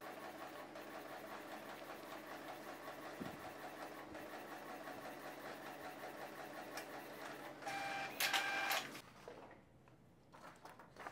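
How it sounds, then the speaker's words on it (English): An Epson L3250 inkjet printer hums and whirs quietly as it prints a Wi-Fi password page, with a steady mechanical drone that swells into a louder, busier burst of paper-feed clatter near the end before settling. "Now it will start printing the password of your printer."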